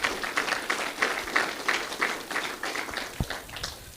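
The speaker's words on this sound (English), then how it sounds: "Give yourself a round of applause," An audience at a bass fishing kayak series awards ceremony on Lake Guntersville, Alabama claps steadily, a moderate, even patter of many hands in a hall with no voices over it.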